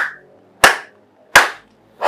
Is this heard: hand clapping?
yes